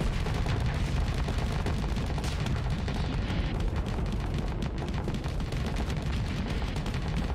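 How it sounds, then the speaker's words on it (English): Ship weapons in a Starsector space battle hammer away in a dense, unbroken barrage of shots and explosions, loud and continuous with no talk. "As he gets shot by literally everything around him."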